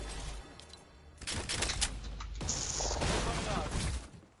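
Rapid gunfire rattles in the Fortnite video game, with bursts of shots that rise and fall over a few seconds while someone talks over them.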